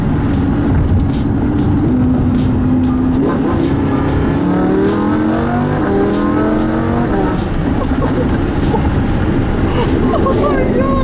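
A Lamborghini Huracan accelerates hard in traffic, its engine climbing through rising, shifting tones under heavy wind rush, with scattered sharp exhaust crackles and people talking excitedly over it.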